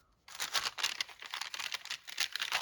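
A crinkly plastic gift bag is shuffled and squeezed in hand, giving a continuous close, quiet crackling and rustling with uneven bursts, and no voices.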